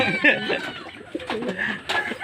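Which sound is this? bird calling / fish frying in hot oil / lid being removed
bird calling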